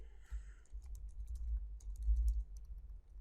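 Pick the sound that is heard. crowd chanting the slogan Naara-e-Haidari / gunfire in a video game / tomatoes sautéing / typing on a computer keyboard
typing on a computer keyboard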